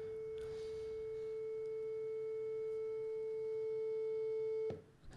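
A pure sine test tone at a single steady pitch, slowly ramping up in level from quiet, holding alone over faint background noise before cutting off abruptly near the end.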